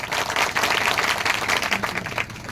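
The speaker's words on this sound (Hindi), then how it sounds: "ये हमारे मुकद्दम साहब के लिए ताली बजाओ पहले।" A village gathering claps for the local headman, giving a dense burst of steady applause from a crowd that fills the whole moment.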